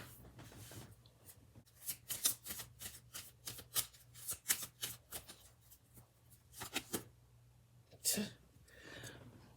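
Tarot cards being handled and drawn for a reading, a rapid run of crisp papery flicks and riffles, fairly close and quiet, pausing briefly before a final soft shuffle with a faint whisper-like rustle.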